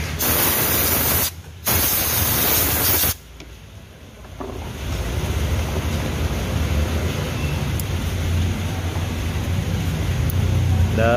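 Aerosol cleaner sprayed onto the throttle body of a Honda Vario 150 scooter: a loud, steady hissing spray in two bursts, the second long and continuous, with no talk.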